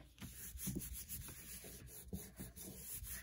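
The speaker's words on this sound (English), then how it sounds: "you can see when I rub over it, it gives this dirty look" A hand rubs over sheet music glued onto a book page, making a soft, close, steady scuffing that rises and falls in quiet repeated strokes.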